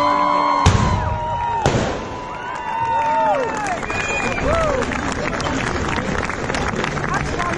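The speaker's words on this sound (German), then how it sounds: "Großer Applaus für unsere Hexe," A crowd at the Lörrach carnival witch burning breaks into applause and cheers, broad and continuous, with a couple of loud bangs early on, whistling tones and voices mixed into the noise.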